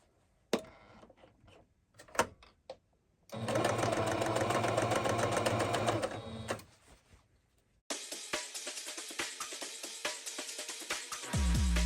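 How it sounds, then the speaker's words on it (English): A sewing machine stitching fabric for a pillow insert whirs in steady bursts, with a long continuous run of rapid stitching, interspersed with clicks and pauses between runs. "So back to the sewing machine."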